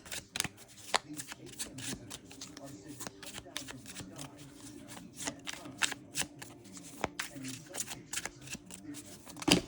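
Tarot cards being shuffled and drawn make a steady run of quick, crisp papery flicks and snaps, fairly close, with a voice talking underneath.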